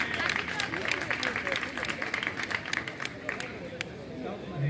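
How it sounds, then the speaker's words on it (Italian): Spectators at a volleyball match between Trento and Vicenza applaud a long rally, steady sharp clapping from a crowd heard under a commentator's voice, fading slightly toward the end. "direi che merita un applauso questo scambio"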